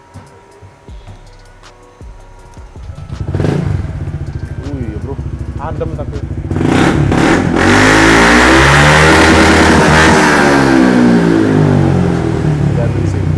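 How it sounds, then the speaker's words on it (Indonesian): A big-engine Honda Vario scooter revs up from a low idle, the motor climbing into loud, sustained high revs with cooling fan whir beneath, while people talk nearby. "Ini bunyi kipas semua mesin."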